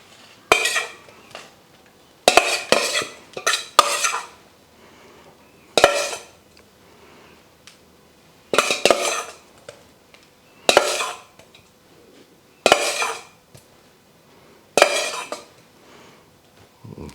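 Dishes and cutlery clink and clatter while currywurst is served into bowls, in bursts of scraping and chinking separated by short quiet gaps, close and fairly loud.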